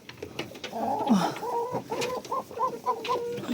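Laying hens cluck in a coop, a close series of short rhythmic clucks and a rising squawk, fairly loud against faint background rustling.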